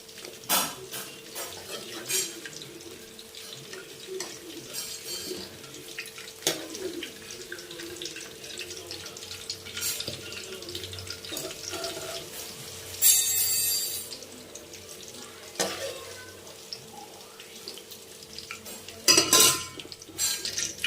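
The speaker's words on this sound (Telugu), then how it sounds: "ఇలా బాగా మంచిగా ఆయిల్లో ఫ్రై అయ్యాక ఈ వంకాయలన్నీ ఒక గిన్నెలోకి తీసేసుకోవాలి" Fried brinjals being lifted out of hot oil into a bowl, scattered metallic clinks and scrapes of a utensil against pans and bowls over soft background sizzling, with several louder clattering bursts.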